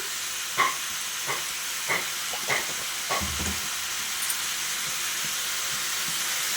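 Ash gourd frying in a pan for a Bengali ghonto, a steady close sizzle and hiss with several sharp scrapes and taps of a spatula stirring the pieces, and no talking.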